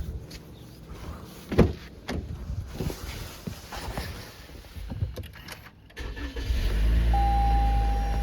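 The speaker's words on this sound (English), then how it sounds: "And now this car is going to be started, right?" A car engine starting after a jump start: scattered clicks and clunks of handling, then the engine catches and settles into a loud, steady idle hum near the end, no talking over it.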